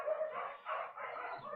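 Dogs bark in short, muffled, rhythmic bursts that sound distant and faint, with no talk.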